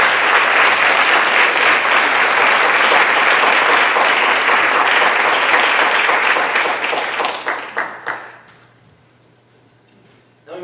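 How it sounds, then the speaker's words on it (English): An audience at a school board of education meeting breaks into loud, dense applause that holds steady for about eight seconds, then thins into scattered claps and stops. "So another round of applause for him."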